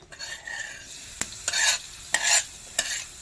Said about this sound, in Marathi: आता मस्तपैकी तेल तापलेलं आहे थोडासा कांदा टाकून बघूया मस्तपैकी कांदा वाजत आहे